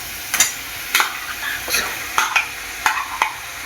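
Marinated mutton with spices is stirred in a pan, giving a steady sizzle broken by six or so sharp scraping strokes of a spoon at roughly half-second intervals.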